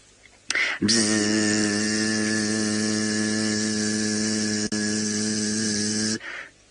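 A person imitates the buzzing wings of a passing bee: one steady, loud, droning buzz held for about five seconds with a brief dip partway through, heard alone and close up.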